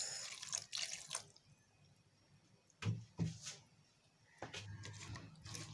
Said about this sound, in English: And then little water to steam the meat.